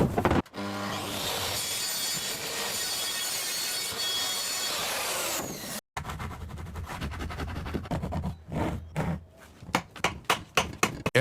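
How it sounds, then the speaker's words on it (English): Wooden cladding boards go onto a treehouse wall, first with a long stretch of steady sawing and rubbing of wood, then a run of sharp, rhythmic knocks and taps as the boards are fastened. "Every board is positioned properly on the construction and secured firmly using a fastening device."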